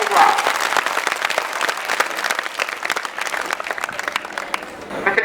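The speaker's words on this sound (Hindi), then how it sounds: "अब्दुल सर के लिए जोरदार तालियां एक बार" Applause at a school results event honoring a teacher: a crowd claps dense and loud throughout, with a voice briefly over it.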